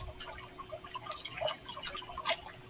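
A waterfall background recording plays as a faint, busy patter of dripping and splashing water, with irregular droplet sounds over a soft continuous wash.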